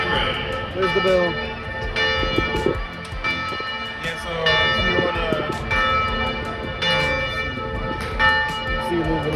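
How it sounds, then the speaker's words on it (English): A ringing bell with bright sustained metallic tones repeating in strokes under rain-day ambience, fairly loud, while someone talks over it. "Y'all hear the bell?"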